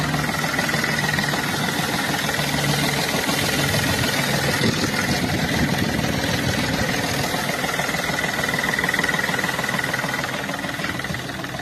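The engine of a 2015 two-owner used car runs in its open engine bay, a steady close idle with a busy, rapid ticking clatter throughout.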